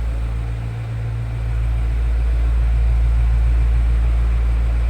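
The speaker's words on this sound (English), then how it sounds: "But just listen to that rumble. You can tell this has a V8" A 2026 BMW M5 V8 idles with a deep, steady low rumble that swells slightly after a moment, close and continuous with no talk over it.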